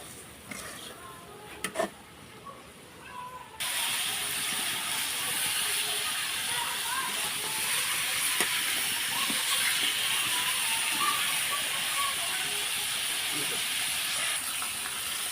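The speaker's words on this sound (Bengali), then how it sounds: "আমি এখন এভাবে মাংসটা ভাজা ভাজা করে নেব" Beef fries in a pot for village-style beef khichuri, a loud, even sizzling hiss that starts abruptly after a quieter opening with a few knocks and continues steadily to the end.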